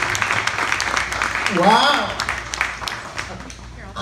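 Seminar audience applauding a business speaker's introduction, steady clapping mixed with cheers and a rising whoop, while a voice exclaims briefly over it.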